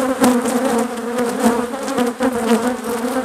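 Honey bees buzz loudly around an open beehive during an inspection, a close, continuous drone with a steady pitch and swirling swells as individual bees pass near.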